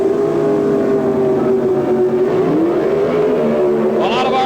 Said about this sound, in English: A lot of RPM, and they leave the line together